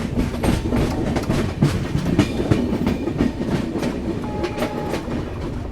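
An express train from Yesvantpur runs onward after leaving Ulindakonda, a continuous loud rumble with clickety-clack wheel beats and occasional squeals, heard from on board.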